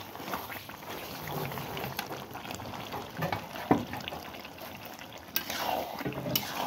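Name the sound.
stirring meat cooking in a pot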